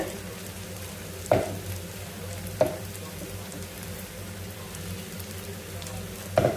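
Okra fry is stirred in a pan with spice powder, a low steady sizzle under three sharp spatula scrapes spaced well apart, close and fairly quiet.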